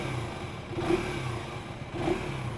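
KTM Duke 350 motorcycle engine revving, two short throttle blips about a second apart rising over a steady idle, close and fairly loud, with no talk.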